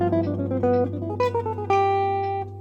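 Electric guitar playing a quick phrase built from speed picking shapes, combining alternate picking patterns with a sweep shape; clear plucked notes ringing one after another at a steady pace, alone and fairly close.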